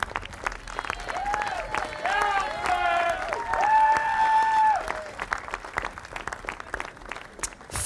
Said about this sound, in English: fabulous to hear the Oxford supporters cheering them here